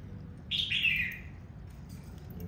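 A moulting white-rumped shama gives one short, bright two-part chirp, close and clear, followed by quiet background noise.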